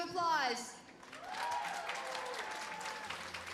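Applause for jump rope competitors at a national championship, a steady wash of clapping from the crowd that follows a brief voice at the start and carries on at moderate level.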